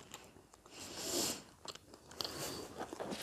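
Bites and chewing on a piece of white chocolate, with soft crunches and mouth sounds in irregular bursts, close and fairly quiet, with no talk.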